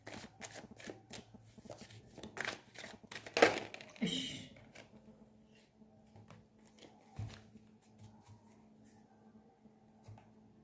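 Tarot cards are shuffled in quick, crisp riffling bursts, close and fairly quiet, followed by softer handling clicks and taps.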